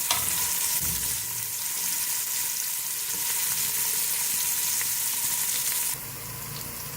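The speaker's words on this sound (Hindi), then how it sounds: "प्याज को हम हल्का सा ब्राउन करेंगे और उसके बाद लहसुन अदरक का पेस्ट शामिल करेंगे।" Onions fry and brown in a pan for an aloo baingan dish, giving a steady, close crackling sizzle that drops slightly quieter near the end.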